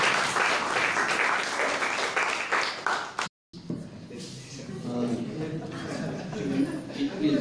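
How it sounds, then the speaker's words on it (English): Audience at a conference talk bursts into sustained applause, broken by a brief dropout, then continues more softly with murmuring and movement in the room. "Please give me a big clap."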